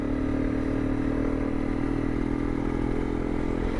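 A top-heavy motorcycle with full tire pressure riding across desert sand, its engine droning steadily and close throughout, with rattling and scraping underneath.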